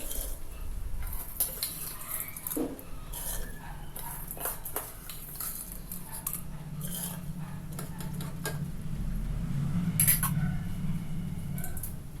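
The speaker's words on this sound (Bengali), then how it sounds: "এখন আমি ধুয়ে রাখা চাল দিয়ে দিচ্ছি তারপর ঢাকা দিয়ে দেবো" Washed rice tipped into a pot of boiling water for khichuri, giving faint clinks and a soft rattling pour over a low simmering rumble, quiet and close.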